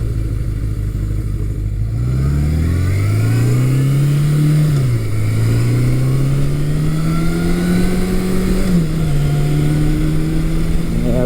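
A 1982 Suzuki GS750E motorcycle engine pulls up through the revs while riding, stumbling and dipping briefly before climbing again, loud and continuous with wind rush throughout.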